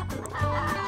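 A chicken clucking in the video game Predator Simulator, a brief close cluck over a steady low background hum.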